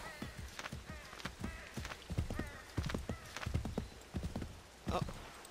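Horse hooves clip-clop in Assassin's Creed 3 as the mount picks its way up forested, steep terrain, a quick run of uneven hoofbeats that stays close and moderately loud, with a brief sharper burst near the end.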